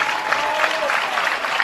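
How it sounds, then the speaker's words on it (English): Crowd applause in the stands at a men's college soccer match between Tampa and Rollins, a steady broad wash of clapping held at an even level throughout. "Let's give a round of applause to all these individuals who are able to be here today."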